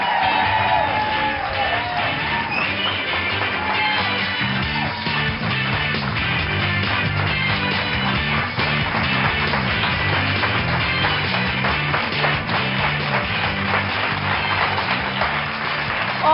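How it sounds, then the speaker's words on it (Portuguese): A studio audience on a Portuguese daytime TV health show applauds and cheers continuously. Sustained clapping and whoops run over a steady tonal backing that sounds like theme music. "Um aplauso para"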